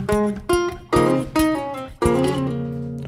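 Clean electric guitar passage in an RnB interlude, opening with short muted notes before fuller plucked chords ring out, five or six distinct attacks with the last chord sustaining and fading, played solo up close.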